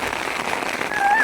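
Heavy rain pours down on farmland, a steady, dense hiss of falling water that holds even throughout and swells slightly near the end.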